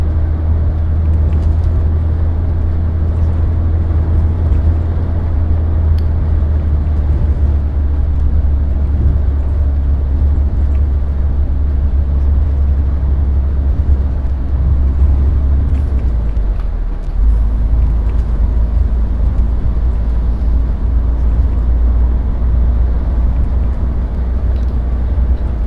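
Marcopolo Paradiso G7 1200 bus engine in the OMSI 2 simulator, a steady loud low drone rising slightly as it revs through the gears, with a brief dip near the end before resuming.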